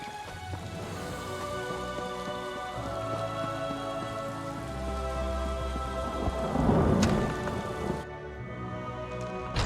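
Steady rain falls in an Elder Scrolls Online thunderstorm at Steadfast Manor on High Isle, with a constant hiss and a deep rolling thunder rumble that swells near the end, and no voices.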